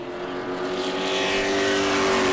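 Reeves Racing's number 21 sportsman race car runs on the track at New Smyrna during qualifying, a steady engine drone rising gradually in loudness as it approaches.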